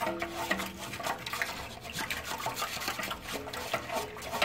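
A stick stirs skunk tanning mix through lukewarm water in a container, giving a continuous soft swishing and sloshing, fairly quiet and close, with no speech over it.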